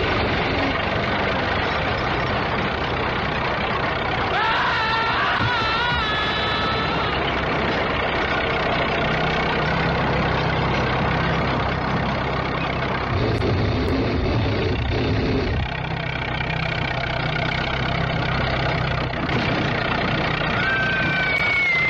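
A tractor engine idles with a steady low rumble throughout a scene in a 1970s horror film, with faint higher-pitched sounds and shifts in the background partway through.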